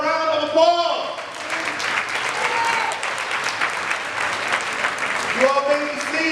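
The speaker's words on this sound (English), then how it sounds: "Give yourselves a round of applause." Loud, sustained applause from a large crowd fills the room, swelling and fading in waves throughout.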